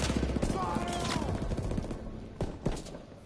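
Rapid bursts of gunfire from a Call of Duty Zombies game, dense crackling shots repeating through the whole stretch with a couple of louder hits near the end, all at a steady close level.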